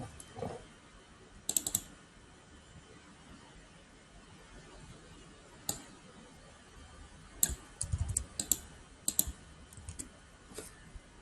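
Sparse keyboard clicks and short bursts of typing as code is entered on a computer, coming in scattered clusters with pauses between them, close and fairly quiet against a low background hum.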